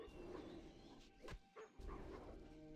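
A dog barks in World of Warcraft, a few short yips rising out of a dense, steady game soundscape; the barks are moderately loud and sit among other game effects.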